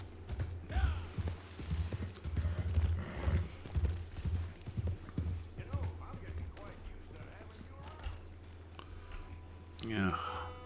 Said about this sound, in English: get on the horse again